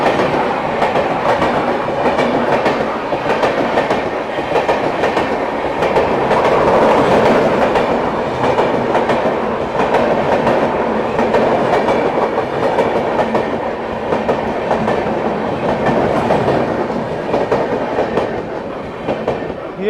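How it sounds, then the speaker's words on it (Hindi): Humsafar Express superfast train to Baba Baidyanath Dham Deoghar passing close by while overtaking, a loud sustained rumble of rolling wagons with clickety-clack wheel beats across the whole stretch, steady and near. "ये गई दोस्तों हम सफ़र एक्सप्रेस,"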